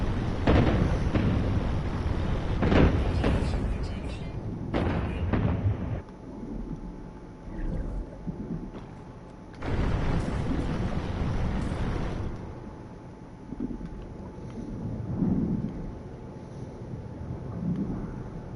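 Fireworks set off underwater in No Man's Sky during a storm, giving a run of loud, muffled, rumbling booms for several seconds, then a second heavy burst that fades into a low, churning wash.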